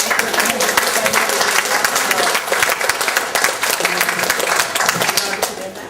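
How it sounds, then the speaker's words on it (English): Audience at a meet-and-greet aboard a cruise ship giving a round of applause: loud, close, sustained clapping with some voices mixed in, tapering slightly at the end. "Can I have a round of applause?"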